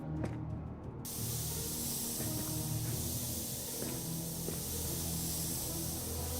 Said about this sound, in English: Okay, time to spray.